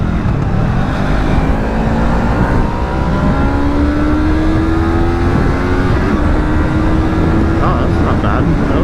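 A 2025 Yamaha R3 motorcycle accelerates hard along a freeway, its engine note climbing steadily in pitch over a constant roar of wind and road noise.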